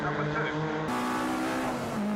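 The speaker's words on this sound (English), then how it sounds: "Again, that superb engine note from Patrick Booth, powers his way through on the inside line" MG Trophy race car engine at Brands Hatch, a loud, sustained engine note that holds steady and then shifts pitch as the car powers through, with track noise and a commentator's voice running over it.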